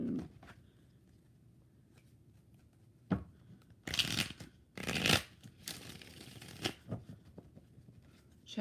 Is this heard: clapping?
no